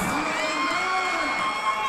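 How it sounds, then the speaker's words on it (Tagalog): Basketball arena crowd cheering loudly and continuously, a dense roar of voices with whoops and shouts rising and falling throughout. "Grabe yung crowd dito"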